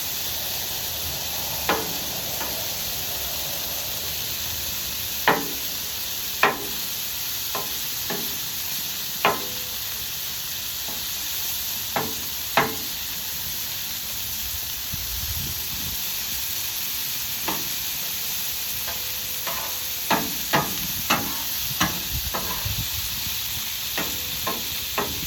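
Food sizzles steadily on a Blackstone griddle under a constant hiss, punctuated by sharp scattered clicks and scrapes as a spatula corner tips individual pieces over; no talking.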